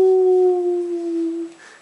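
A voice imitates cold winds howling with a single sustained, steady "ooh" tone that fades out after about a second and a half, loud and alone.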